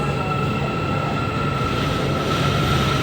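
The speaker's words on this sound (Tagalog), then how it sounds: "Yan ang tren papuntang Plaza Damansara." A metro train at a station on the line between Sentul Barat and Titiwangsa, producing a loud, continuous rumbling roar with a steady high electric whine throughout, close by and without voices.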